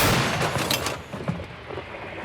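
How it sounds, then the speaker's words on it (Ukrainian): A heavy D-30 howitzer blast booms right at the start, loud and close, then rumbles and echoes away into fading reverberation. "Постріл!"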